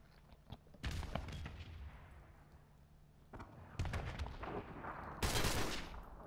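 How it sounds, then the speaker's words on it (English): Gunfire from Modern Warfare Remastered: several loud bursts of rapid shots around a sustained game soundscape, with quieter shot clusters between the bursts. "Just shooting crazy."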